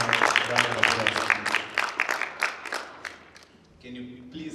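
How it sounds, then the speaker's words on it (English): Scattered audience clapping at a youth leadership conference welcomes speaker Leann to the stage, with separate claps for about three seconds before fading, then a voice. "Can you please give her a round of applause?"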